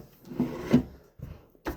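A cheap mini toolbox drawer, from a Snap-on or Walmart set, slides and slams shut, giving a few close, short knocks and rubbing bumps with brief pauses between them.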